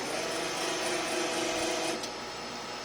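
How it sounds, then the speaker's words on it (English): An injection molding machine whirs steadily as its screw rotates back, a close, even mechanical drone with a faint tonal hum that eases off toward the end. "now when we rotate the screw, it has a much easier time going back."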